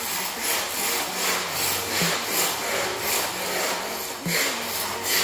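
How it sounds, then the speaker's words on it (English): A scraper rasps loose epoxy chips off an old fire station garage floor in steady repeated back-and-forth strokes, a continuous gritty scraping close up. "So he's scraping up all those loose chips and we're getting it ready for our first coat of urethane."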